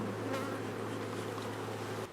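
Honeybees buzzing around an open drone-comb frame lifted from a hive during an autumn inspection, a steady low hum close by with no talking over it.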